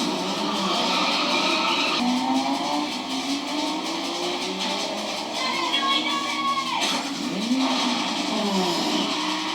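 Big cars rev and accelerate loudly in a Berlin TV episode, a sustained engine roar with rising pitch sweeps and a brief squeal-like slide near the end.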